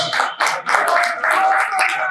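Audience at a business leaders' retreat event in Goa claps and cheers for a panelist walking on stage, a steady wash of applause with bursts of cheering that dips briefly and swells again.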